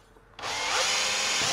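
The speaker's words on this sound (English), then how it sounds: "we're opening up the holes to a little bit over 1/4 inch right now for M6 hardware" A power drill bores through plastic to enlarge holes to just over 1/4 inch for M6 hardware while a Swan Neck wing is fitted to an MKV Toyota Supra. The motor whines on suddenly, loud and close, and holds steady.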